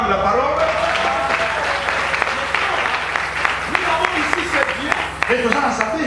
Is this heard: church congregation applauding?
yes